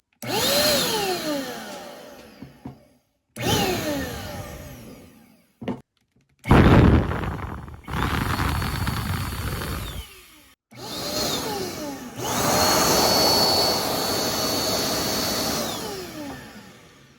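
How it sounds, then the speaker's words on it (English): A small electric air duster, a battery blower used in place of canned compressed air, roars in repeated bursts. Its high whine ramps up and winds down between short silences, and a long loud run closes the sequence. "I'm going to turn on the duster without lowering the gain."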